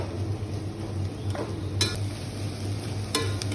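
Shallots with ginger, garlic and green chili sauté in a pan with a soft continuous sizzle, stirred by a utensil that makes occasional scrapes and two sharper metallic clinks.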